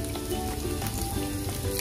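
Peanuts fry in hot oil in a kadhai with a dense, close, continuous crackling sizzle that stays steady and loud for the whole short stretch, with no speech.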